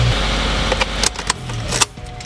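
A 2018 Subaru WRX engine idles steadily just after starting, close and fairly loud, with a few sharp clicks and rattles from under the open hood.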